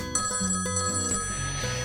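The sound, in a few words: phone ringing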